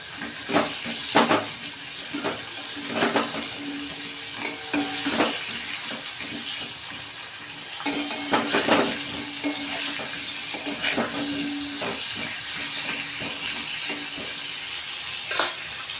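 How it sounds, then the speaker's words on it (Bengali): Cut potatoes sizzle and crackle steadily in hot fish oil left from frying magur catfish, close and fairly loud, with occasional stirring clinks against the pan. "মাছের তেলের মধ্যেই আমি কেটে রাখা আলুগুলো দিয়ে দিয়েছি। তেলের মধ্যে আমি ভালো করে লাল লাল করে আলুগুলোকে ভেজে নেব।"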